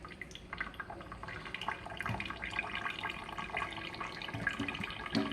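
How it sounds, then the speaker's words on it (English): Water pours off cooked pasta into a sink while it is drained during home cooking, giving a quiet, continuous trickle with scattered drips and light clinks, close by and faint. "Okay, so now we're going to take some water out of the pasta."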